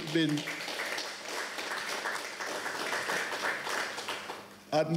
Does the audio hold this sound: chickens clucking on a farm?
no